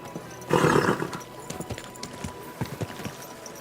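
Hooves clop at a walking pace as a horse moves through a town in Kingdom Come Deliverance II, near and clear after a short burst of snorting or whinnying at the start.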